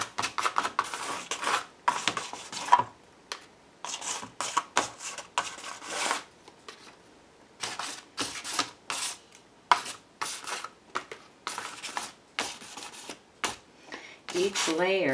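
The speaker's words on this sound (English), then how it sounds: "My paper towel and just smooth out some of these edges." Paper towel rubbed over the edges of collage paper in repeated brisk scrubbing strokes, close and fairly loud, pausing briefly between passes.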